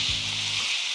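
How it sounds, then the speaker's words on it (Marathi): Cashews and magaj seeds with spices sautéing in hot oil, giving a steady broadband sizzle that holds evenly for a second, with a brief low clatter near the start. "आता हे सगळं एखाद मिनिटभर छान परतून घ्यायचं, तेलामध्ये छान परतून घ्यायचं."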